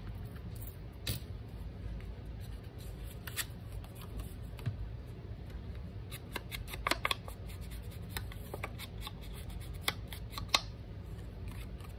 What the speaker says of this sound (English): I'll just trim off the edges.